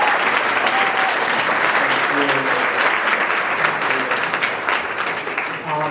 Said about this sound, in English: if we all could give him a big round of applause, Curtis Lewsey.